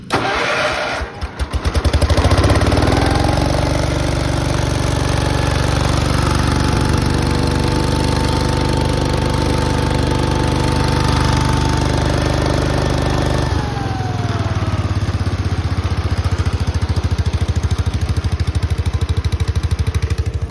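A garden tractor's small engine cranks briefly, catches and settles into a loud, steady idle close by, with a slight change in pitch partway through as it keeps running without talk.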